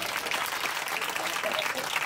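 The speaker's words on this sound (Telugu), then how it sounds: "గట్టిగా చప్పట్లు కొట్టండి" A church congregation at a women's prayer meeting claps together, steady and even throughout, fairly soft in level, with faint voices mixed underneath.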